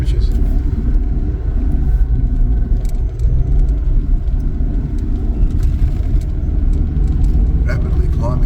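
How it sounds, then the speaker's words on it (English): A Toyota Fortuner towing a caravan accelerates uphill, giving a steady, loud, close engine rumble mixed with road noise that runs through the whole stretch. "Accelerating up the hill now."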